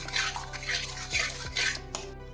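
A spoon stirs a thick adadiya mixture of gram flour and ghee in a hot, heavy-bottomed pan. Close scraping strokes come in a steady rhythm with light metallic clinks, and nobody speaks.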